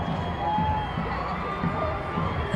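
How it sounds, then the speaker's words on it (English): A large crowd at the NY Liberty ticker-tape parade in New York City, celebrating the team's first WNBA championship, makes a steady roar of distant cheering and shouting with no clear breaks. "You can see how pumped this crowd is."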